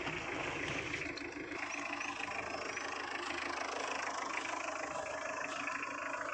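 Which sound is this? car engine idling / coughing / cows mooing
car engine idling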